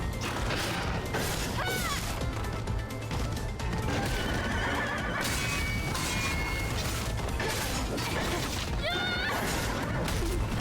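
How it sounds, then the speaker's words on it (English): Horse neighing and whinnying in the video game Stellar Blade, several loud shrill calls over a busy game soundtrack with mechanical clanks and crashing sounds, no talk. "Dumb horsey. Bad horsey."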